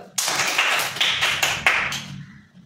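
A classroom of government-school children claps together in a brief burst of several quick, sharp handclaps, close and fairly loud, fading out after about two seconds.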